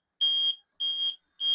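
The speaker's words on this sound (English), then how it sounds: "Obviously we can hear that the buzzer is working." Warning buzzer on a vehicle's wheelchair ramp: three loud, steady electronic beeps, each about a third of a second, evenly spaced and heard alone.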